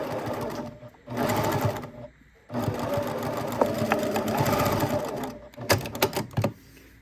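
Sewing machine stitching across necktie fabric to close a glasses case, running in several steady bursts of rapid mechanical chatter separated by brief pauses, close and fairly loud.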